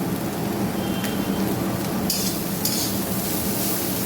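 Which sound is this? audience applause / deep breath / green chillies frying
green chillies frying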